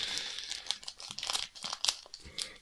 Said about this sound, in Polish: Zacznijmy od rozpakowania, oczywiście.